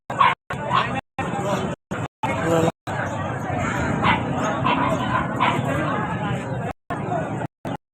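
Golden retrievers bark in short bursts and whimper and yip in between, close and loud, while people chatter in the background at a pet market in Grotto, Bulacan.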